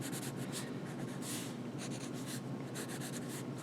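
A pencil lightly traces around letter boxes on a stamp carving block, giving a steady, soft, close scratchy rasp with brief brighter strokes throughout.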